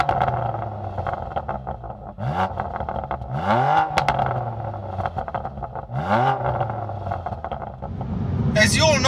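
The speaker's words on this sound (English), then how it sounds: "the thing I least enjoy about the M2 Competition, and you've probably guessed it, it's that exhaust noise" A BMW M2 Competition's twin-turbo engine, the same unit as in the M3 and M4, revs in rising sweeps through its exhaust several times, fairly loud and close, with a person talking over it.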